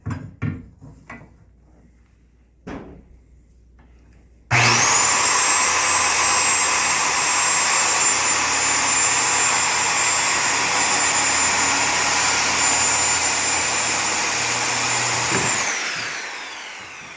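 A power saw cuts a piece of wood for a DIY birdhouse: after a few quiet knocks, a loud, steady high whine starts abruptly and runs unbroken for about eleven seconds before spinning down.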